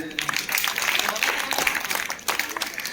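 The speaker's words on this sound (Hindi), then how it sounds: "जोरदार ताली हो जाने के लिए।" Applause for a quiz team's score during a rapid-fire round, a steady stretch of clapping with a crowd murmur that lasts about three seconds, with a brief dip near the end before the clapping rises again.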